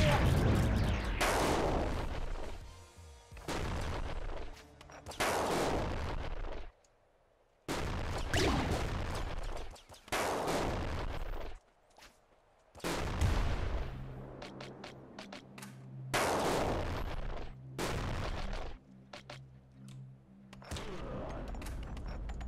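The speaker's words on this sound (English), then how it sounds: "Who's shooting at me like that?" Bursts of gunfire and booming blasts from the video game Nuclear Throne come in loud, dense volleys separated by short silent gaps, repeating steadily across the stretch.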